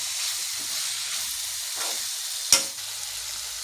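Masala with a teaspoon of vinegar sizzles in a pan for chicken noodles, a soft continuous hiss with one sharp clack of a spoon near the end, no speech.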